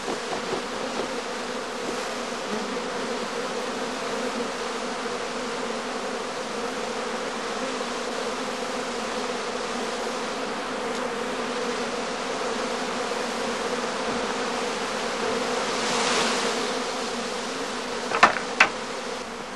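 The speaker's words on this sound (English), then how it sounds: "If, after 6 to 10 minutes, no further bees emerge from the skep" Honeybees emerging from a skep make a steady, dense buzzing swarm that continues throughout, close and even in level, with a couple of brief sharp knocks near the end.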